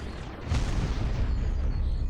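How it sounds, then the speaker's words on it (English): Summoned meteor explosion in the Gorebox video game: a sudden heavy boom followed by a sustained low rumbling roar that stays loud to the end, with no voices. "that explosion is massive and my computer can't handle it properly"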